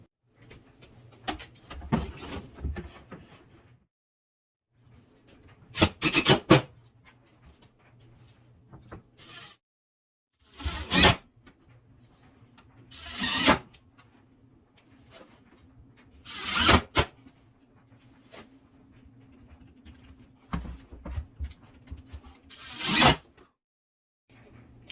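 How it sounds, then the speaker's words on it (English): Screws with number 8 flat washers driven through pegboard into furring strips: several separate short loud bursts of a power driver whirring, with quieter handling noises between them and no talk. "we're going to fasten our pegboard up onto those using some number 8 flat washers and some screws to match the pegboard"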